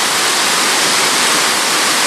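A river rushes through the village of Betws-y-coed, a dense, loud, unbroken roar of fast-moving water heard up close with no other sounds.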